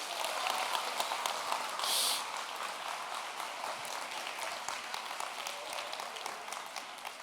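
An audience applauds Raj at an education talk on mindfulness and emotional intelligence, a dense, steady round of clapping that runs for the full stretch at an even level with no voices over it.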